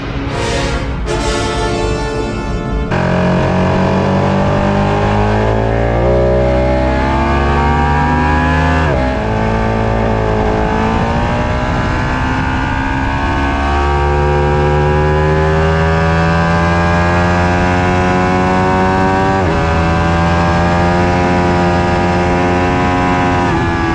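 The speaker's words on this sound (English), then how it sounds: "as I go ripping through the gears on the front straight" A race car at Palmer Motorsports Park rips up through the gears on the front straight in medium engine mode, its loud, close engine note climbing and dropping at each upshift over about twenty seconds, with no voices.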